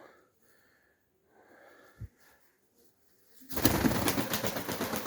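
Pigeons in a box inside a pigeon loft, soft low cooing and rustling near the start, then a loud burst of flapping wings close by.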